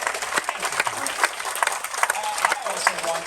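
Audience applause at a Habitat for Humanity homes event in Baltimore, scattered claps and a crowd murmur with several people talking over the clapping.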